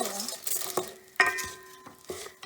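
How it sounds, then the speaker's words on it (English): Jeera seeds sizzling in a pan as spices are stirred, with a soft hiss under sharp metallic scrapes and clinks of the spoon against the pan, close and intermittent. "Sizzling."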